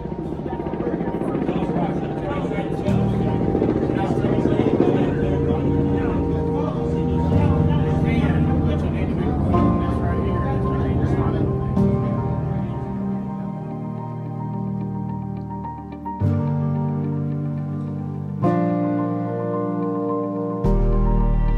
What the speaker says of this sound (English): Let's throw up the OGM drone and take a little tour of this Freightliner frame.